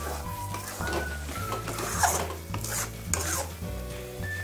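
After the lid comes off, a vegetarian dish is stirred in a pan: close sizzling with spoon scrapes and a few metallic clinks against the pan, no voices.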